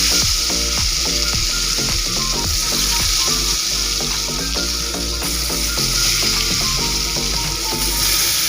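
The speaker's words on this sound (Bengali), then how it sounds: "এরপর আমি বেগুনটাকে ভেজে নিলাম।" Eggplant fries in a pan, giving a continuous, close crackling sizzle that sits under steady rhythmic background music with no talking.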